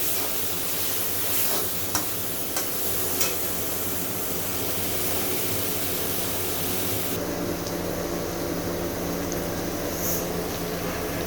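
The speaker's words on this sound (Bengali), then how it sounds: "এখন শাকটাকে আমাকে ভালোভাবে ভেজে নিতে হবে।" Taro leaves (kochur sak) frying in a pan for a vegetarian dish, a steady close sizzle with occasional stirring scrapes throughout, no talking.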